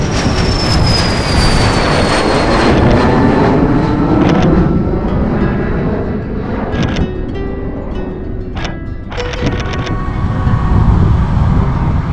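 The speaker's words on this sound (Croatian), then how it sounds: "A avioni prođu ispred vas na nekih sigurnih 50-60 metara." An airplane passes about 50 to 60 metres away beside an airport runway. Its loud, close jet roar carries a falling whine, then thins out as it moves away.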